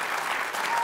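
Steady, loud applause from a television studio audience after a music performance, a dense continuous clatter of many hands with no pause in the short burst.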